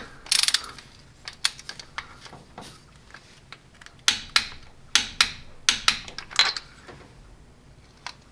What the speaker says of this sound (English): torque it down to 44 foot-pounds